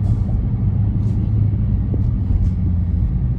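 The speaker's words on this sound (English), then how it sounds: "A lot of traffic out here tonight." Road traffic passing at night on an open road, a constant low rumble from a car interior with a few brief faint whooshes of vehicles going by.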